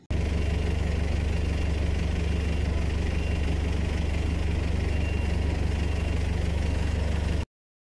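Double decker bus engine idling with a steady low rumble and vibration, loud and unbroken for about seven seconds before cutting off abruptly.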